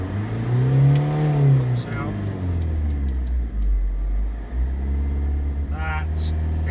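A Freelander TD4 diesel engine revs up to about 2,500 rpm, rising in pitch and holding, then settles and rises again; someone speaks briefly over the engine noise.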